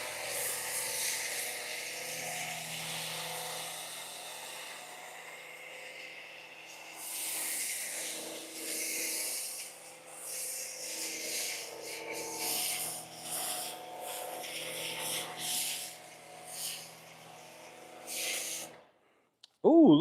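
A pressure washer sprays thick, sweet-smelling soap foam in a steady, close, broadband hiss lasting nearly twenty seconds, swelling and dipping slightly before cutting off abruptly, followed by a brief louder sound at the very end.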